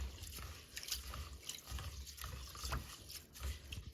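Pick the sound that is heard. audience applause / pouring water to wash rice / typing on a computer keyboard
pouring water to wash rice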